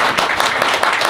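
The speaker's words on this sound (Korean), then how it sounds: "큰 박수 한번 쳐주시기 바랍니다" A crowd at a Seoul education superintendent candidates' debate applauds steadily, dense clapping filling the room without pause, loud and close.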